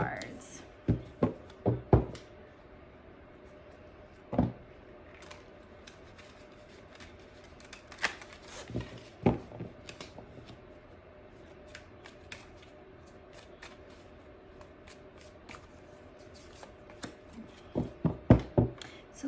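Tarot cards are shuffled and handled in quick, soft riffling bursts and taps scattered through the clip, close but quiet, with someone talking throughout.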